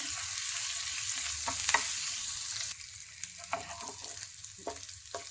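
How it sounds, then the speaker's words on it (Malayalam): Crushed ginger and garlic fry in hot coconut oil with a steady close sizzle, punctuated by a few sharp spatula scrapes and taps as the mixture is stirred. "ചൂടായ വെളിച്ചെണ്ണയിലേക്ക് 1/2 സ്പൂൺ ഇഞ്ചിയും വെളുത്തുള്ളിയും ചതച്ചത് ഇട്ട് കൊടുക്കാം"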